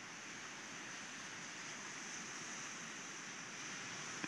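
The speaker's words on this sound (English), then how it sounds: "Enjoy the waves here at Lake Erie." Waves washing onto the Lake Erie shore on a March morning at Euclid, Ohio, heard as a steady, distant broadband rush of surf with wind and no distinct individual breaks.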